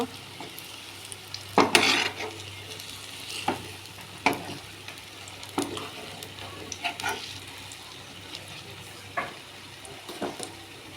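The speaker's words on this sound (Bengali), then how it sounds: "বড়াগুলো এবার আমি উল্টে দেব" Ripe mango fritters frying in oil while being flipped one by one, a soft steady sizzle broken by several sharp utensil clacks and scrapes against the pan.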